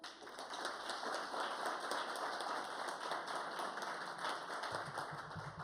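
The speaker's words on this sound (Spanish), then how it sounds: "Un fuerte aplauso." Sustained applause fills a Colombian Supreme Court magistrate swearing-in ceremony after the president signs, a steady dense wash of many hands clapping throughout without pause.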